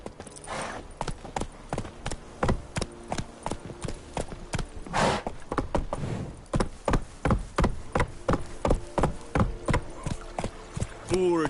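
Roach the horse gallops in The Witcher 3, with rapid, loud rhythmic hoofbeats pounding close throughout, a brief pause in the middle, and a short whinny-like breath sound near the start.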